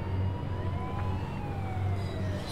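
Fire truck siren in the Indian Bikes Driving 3D video game, a wailing tone rising and falling over a steady low engine drone, continuous and fairly close with no talking.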